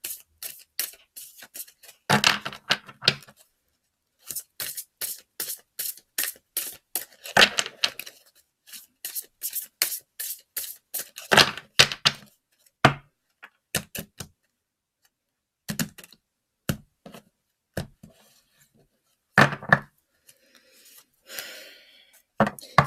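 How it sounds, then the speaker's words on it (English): Tarot cards being shuffled and cut by hand, a run of quick papery riffles and flicks in bursts with short pauses, close and fairly quiet, no talking. "And I do shuffle and cut these particular cards."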